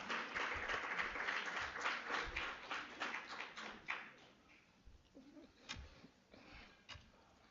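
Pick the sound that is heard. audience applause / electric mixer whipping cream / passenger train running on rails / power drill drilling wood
audience applause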